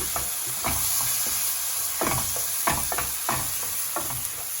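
Mutton curry masala with Kashmiri chili powder being sautéed in a pan, a steady close sizzle broken by repeated scraping stir strokes, with no voices.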